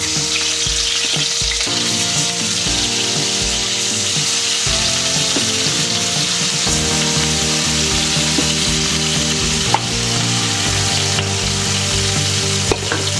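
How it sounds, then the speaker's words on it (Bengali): Tilapia fish frying in hot oil in a pan gives a loud, continuous crackling sizzle up close, with occasional stirring or utensil knocks and no voices. "প্যান গরম হয়ে গেছে, এতে আমি তেল দিয়ে দিয়েছি, আর এতে আমি মাছটা খুব ভালোভাবে ভেজে নিব।"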